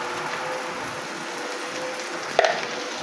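Amaranth leaves (thotakura) stir-frying in a pan, a steady close hissing sizzle throughout with a single sharp clink of a utensil near the end; no talk.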